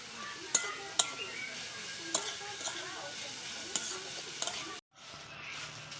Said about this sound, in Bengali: আমাদের সব সবজিগুলো ভালো মতন ভাজা হয়ে গেছে